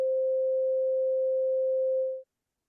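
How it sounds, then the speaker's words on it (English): A pure 523 hertz sine wave reference tone at middle C holds steady and alone for about two seconds, then stops abruptly into silence. "A pure 523 hertz sine wave is sometimes used as a reference tone for tuning middle C."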